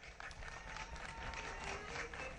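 An audience applauds at a bull competition in Ahuehuetitla, Puebla, producing faint, distant, continuous clapping for a couple of seconds.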